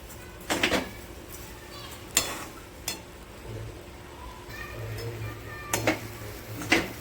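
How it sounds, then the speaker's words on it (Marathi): Grated coconut and sugar are stirred in a kadhai to make coconut barfi, with a spatula scraping and knocking against the metal in a handful of sharp, irregular strokes over a low kitchen background. "बघा असं आपण त्याला सारखं परतत राहायचं आहे, म्हणजे ते खाली कढईला त्या बुडाला लागणार नाही याची काळजी घ्यायची।"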